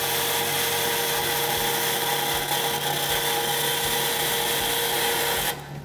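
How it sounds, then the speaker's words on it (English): Bandsaw cutting out a metal piece in a workshop, a steady loud whirring drone with a high metallic edge that carries evenly through and cuts off abruptly at the end. "Going to head over to the bandsaw and cut this out."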